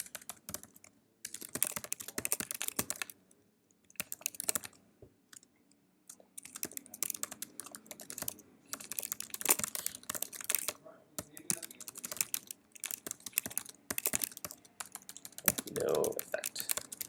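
Typing on a computer keyboard, bursts of quick clicky keystrokes with short pauses between runs, close and moderately loud, with quiet talk at times.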